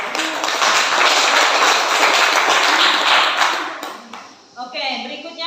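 Dense, steady clapping from a classroom audience for a student group that just finished presenting, loud for about four seconds before fading out as a voice begins speaking.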